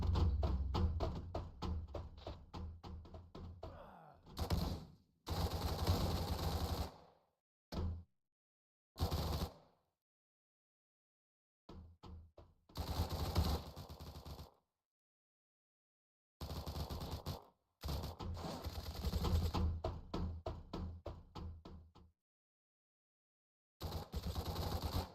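Rapid machine-gun bursts in a video game rattle out in repeated fast volleys, loud and close, separated by short silent gaps, with no voices over them.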